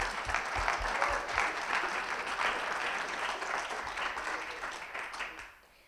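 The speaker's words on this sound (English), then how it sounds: "Let's give a round of applause." Audience applause at an innovation fellowship pitch final in Indonesia: dense, steady clapping from a sizeable crowd that holds for about five seconds, then fades away quickly at the end.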